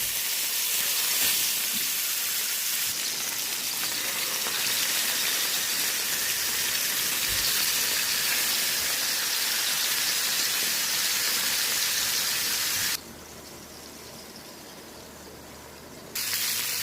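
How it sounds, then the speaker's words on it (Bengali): Tilapia fish pieces fry in hot oil, giving a steady, loud, dense sizzle and hiss that continues without a break and drops briefly in level near the end. "আমি মাছগুলো ভেজে নিচ্ছি"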